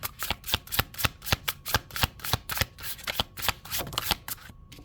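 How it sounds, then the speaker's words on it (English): Oracle cards being shuffled by hand in a quick series of crisp riffling bursts, steady and close, with no talking. "These are probably hard to shuffle."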